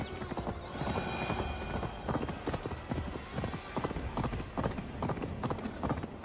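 Galloping hooves pound in a quick, uneven rhythm, loud and near, with a horse whinnying over a busy background, in Assassin's Creed Valhalla.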